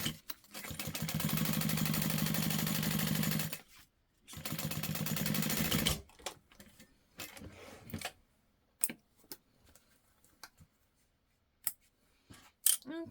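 A sewing machine bastes fabric pieces together in two loud, steady bursts of rapid mechanical stitching, followed by scattered light clicks and handling noises.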